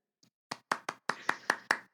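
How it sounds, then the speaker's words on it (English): A slow, light golf clap: about seven soft, evenly spaced hand claps, close and quiet, with no talking over them. "Golf clap."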